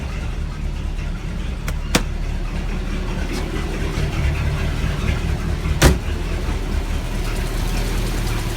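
A 1976 Mercedes 240D fitted with a 5.5 V8 engine idles with a steady, deep, even rumble, broken by a few sharp clicks.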